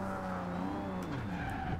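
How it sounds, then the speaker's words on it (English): Nissan Skyline 2000GTR in Forza Horizon 2 spinning its wheels and drifting, with engine drone and squealing, shifting tire tones sustained over the brief stretch. "Wow, a lot of wheel spin. And I mean a lot of wheel spin. Okay, it's drifting quite nice."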